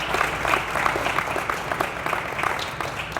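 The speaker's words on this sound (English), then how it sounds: "Let's give them a round of applause as well." An audience of company employees applauds at an economic expansion announcement in Richmond, a steady, dense wash of many hands clapping throughout, moderately loud and with no talk over it.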